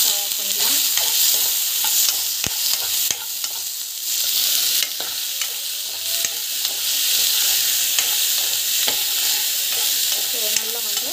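Tomato, lentils and greens sizzle in a hot pan for a green chutney, a continuous bright frying hiss broken by repeated scraping stirs of a spoon, close up with no talking.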